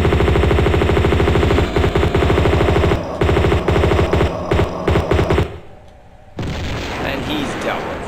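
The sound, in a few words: gunfire shooting an enemy in video game Tomb Raider II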